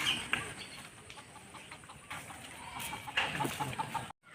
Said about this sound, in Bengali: এই যে মুরগি,